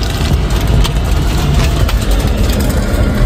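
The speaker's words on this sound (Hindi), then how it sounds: "चलो डालो पहला गेयर और निकाल दो" A car engine with the driver shifting into first gear and pulling away on a mountain road trip: a loud, continuous low rumble and road noise heard from inside the vehicle, with no distinct gear change standing out.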